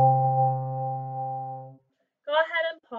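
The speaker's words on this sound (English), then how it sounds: "if you have a four valve baritone, you're gonna push down that pinky. It sounds like this." A four-valve baritone horn holds a steady, clear long tone on re (C) with the fourth valve pressed, then stops. After a short silence a person starts talking.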